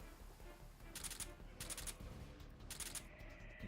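Three short bursts of rapid gunfire from the Metal Gear Solid 3 video game, each a quick crackling volley about a second apart, fairly quiet and set against a low game background.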